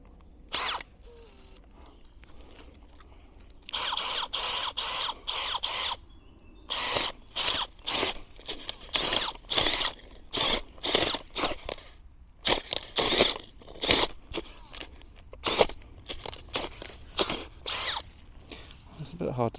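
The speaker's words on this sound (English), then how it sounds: "let's do a little soil test here. Let's see how difficult this drill is going to be to use." A hand drill bores into soil for a soil test on growing land, giving repeated short grinding bursts in an uneven rhythm with brief pauses, fairly close and loud.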